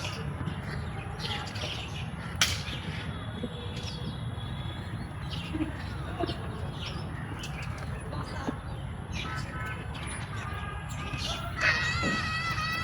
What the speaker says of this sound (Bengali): একদম পাখি যেভাবে ডাকতাছে,